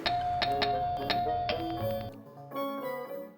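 A doorbell rings with a bright chiming melody of sustained bell-like tones, several notes ringing out one after another, then a shorter second phrase, clear and without talk.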